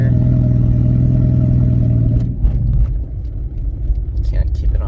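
A 2003 Toyota Prius with its catalytic converter removed drives with a loud, droning engine that rumbles and clatters up close, easing off partway through while a person talks over it.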